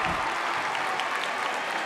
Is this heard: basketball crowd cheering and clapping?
yes